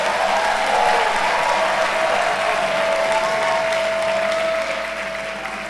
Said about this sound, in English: I think you all should give yourself a big round of applause.